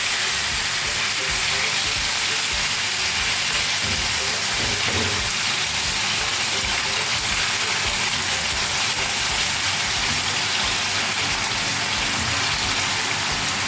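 Steady, dense sizzling and crackling of raw meat frying in hot oil in a pan, a constant hiss that stays even throughout without pauses.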